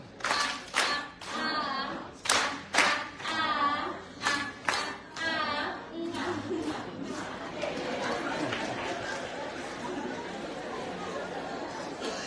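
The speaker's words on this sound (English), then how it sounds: "let's give her the love clap" An audience claps for First Lady Dr. Fatima Maada Bio at a 2023 adolescent event. Someone speaks first, then a dense, sustained round of clapping fills the room.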